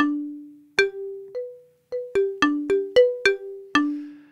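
Bright synth tones from an Akai Force ring out alone as separate notes and small chords, about a dozen clean plucked-sounding hits, each decaying before the next.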